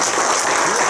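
Audience applause fills a meeting room, a dense, steady wash of clapping hands that stays loud and even throughout the short burst, with no voices standing out above it.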